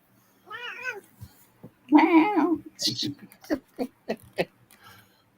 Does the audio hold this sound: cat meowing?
yes